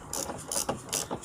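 Ratcheting clicks from a wrench tightening a bolt while replacing an engine mount on a Peugeot 206 HDi, coming in several short bursts of metallic clatter close by.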